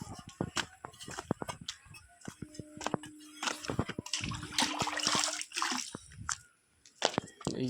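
Water is drawn from a tank into a container, giving splashes, drips and trickling with some clanking of the vessel, close and fairly quiet, broken by brief noises.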